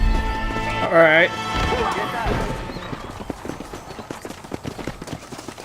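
In the Red Dead Redemption video game, a horse whinnies loudly near the start, then hooves clip-clop in an uneven rhythm that grows busier toward the end, with brief talk mixed in early.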